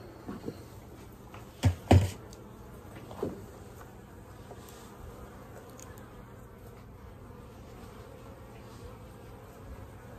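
Honeybees buzz in a low, steady drone close by in a sparsely populated hive, with a few louder bumps and knocks near the start and no voices.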